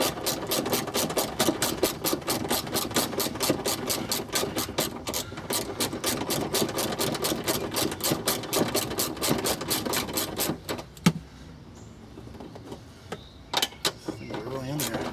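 Rapid, steady ratchet clicking as the last rear seat bolt comes out of a Gen II Toyota Prius. It runs for about eleven seconds, then breaks into a few sparse clicks and handling noises nearby.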